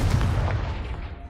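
A Confringo spell blast goes off in the video game Hogwarts Legacy, landing as a single loud, heavy boom with a deep low-end rumble that fades over about a second, with no voices.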